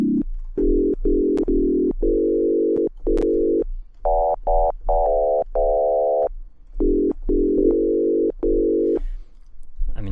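FM synthesizer tones with modulated waveform ratios, a series of sustained buzzy electronic notes stepping between pitches in short bursts and pauses, clean and loud with no talking.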